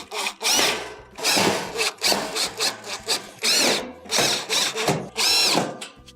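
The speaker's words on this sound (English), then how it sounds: "Go around the perimeter and replace your screws." On a Samsung stove, a power driver runs screws back in around the perimeter in repeated short whirring bursts with brief pauses between them, close and fairly loud.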